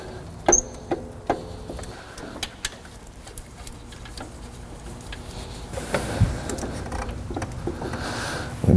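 The long alternator bolt on a Honda Element or CR-V is loosened with a hand tool, giving close, sparse metallic ticks and clicks at an irregular pace, followed by a busier scraping stretch.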